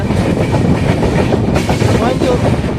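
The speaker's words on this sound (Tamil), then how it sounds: "அதனால தான் வந்து ட்ரெயின் ஸ்லோவாக போயிட்டுருக்குங்க" Rapti Sagar superfast express train rolling at moderate speed through a ghat section between Palakkad and Coimbatore, with steady loud rumble and clickety-clack of wheels on rails heard from on board, continuous throughout.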